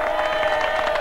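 A television studio audience gives cyclist Marco Pantani a dense, continuous burst of applause after his 1998 Tour de France win, steady crowd clapping mixed with some cheering.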